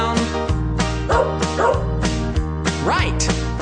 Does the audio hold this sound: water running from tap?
no